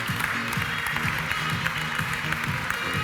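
Audience applause at a French business conference on data and digital media performance, steady dense clapping filling the hall as guests from TF1 and SAP walk on stage, with faint voices underneath.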